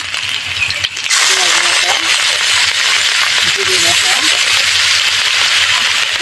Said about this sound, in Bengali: মাছের মাথা দিয়ে দিলাম